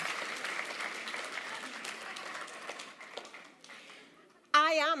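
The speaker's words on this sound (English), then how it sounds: "Give him a round of applause." A church congregation gives a round of applause, dense clapping that gradually thins and fades out before a short burst of sound breaks in at the end.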